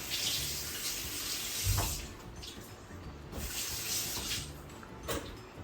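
Food being rinsed under a running kitchen tap, a steady close hiss of flowing water broken by a few splashy surges as the produce is moved through the stream.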